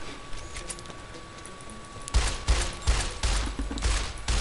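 Gunfire in the video game Fallout New Vegas: a quiet stretch, then from about two seconds a run of loud, close shots in quick bursts.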